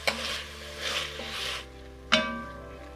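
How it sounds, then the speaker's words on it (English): Ground meat sears in a pan with a bright, steady sizzle as a wooden spoon pushes it around in a few scraping strokes, then one sharp knock against the pan near the end over a low hum. "And I'll work this around with the wooden spoon. And it's really just to sear it"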